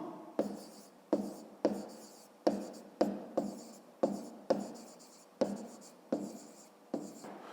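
A pen writes by hand on paper in a maths lesson, making about a dozen evenly spaced scratchy strokes, each a sharp onset that fades, close and quiet.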